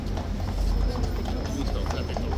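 Hooves of a King's Guard horse clip-clop on pavement in an outdoor crowd, a few soft irregular steps mixed into general background noise and nearby chatter.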